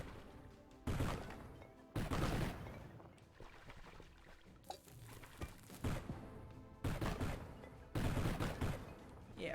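Bombs blast apart rocks in the video game Undermine: a series of about six sharp, booming explosion bursts at irregular intervals, with a quieter rumble between them.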